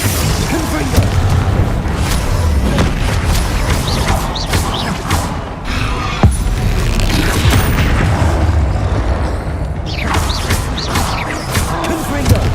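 Repeated booming blasts from the Confringo fire spell in the Hogwarts Legacy video game, loud bursts layered with combat clatter and crashes across the whole stretch, with shouted spell incantations in between.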